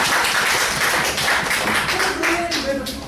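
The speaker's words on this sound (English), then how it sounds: "let us give a big round of applause for Toastmaster BMS Rao for completing CC1" Audience clapping at a Toastmasters club meeting, a dense, steady patter of many hands filling the whole stretch at fairly close range, with faint tonal voices or sounds rising toward the end.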